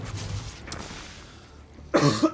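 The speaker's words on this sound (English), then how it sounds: "Had to cough there mid-speech." A single sharp cough near the end, loud and close, following a stretch of quiet low background noise.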